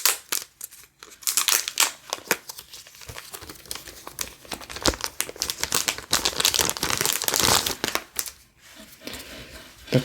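Crinkly plastic foil wrapping of a Pokémon card pack being torn and crumpled up close, a dense, busy run of crackles and rustles with short pauses, no voices.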